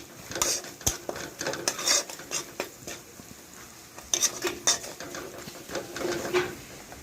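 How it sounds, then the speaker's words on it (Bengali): Fried hilsa fish stirred with spices in a pan, a spoon scraping and clinking against the metal in irregular close strokes over a low background sizzle. "মশলার সঙ্গে ভালো করে নেড়ে নেড়ে নেব"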